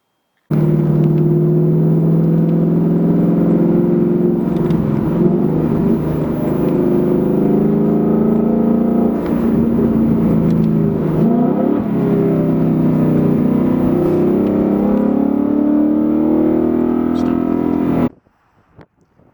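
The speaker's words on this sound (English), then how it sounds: "pay attention to the RPMs and how I wait for the RPMs to climb above 3500 RPMs before I get on the car" Gen 3 Coyote V8 in a Ford Mustang revving hard above 3500 RPM, a loud continuous engine roar climbing and shifting pitch for about seventeen seconds before cutting off abruptly.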